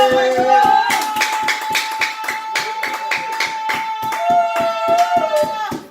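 A church congregation at a Sunday worship service claps in a steady, rhythmic beat, with sustained musical tones and voices running beneath the clapping throughout.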